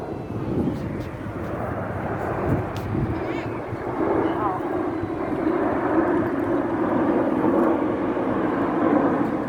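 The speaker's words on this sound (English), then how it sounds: "Lancaster moving off to our left-hand side, not normally renowned for its aerobatic ability." An Avro Lancaster bomber flies past at an air display, its engine drone a continuous broad rumble that swells slightly midway, with a commentator talking over it.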